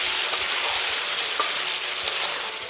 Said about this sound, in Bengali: জায়ফল, জয়িত্রী, জিরে, শুকনো লঙ্কা আর গরম মশলা আর তার সাথে ছিল তেজপাতা, সব কিছু দিয়ে এবার ভালো করে কষিয়ে নেব।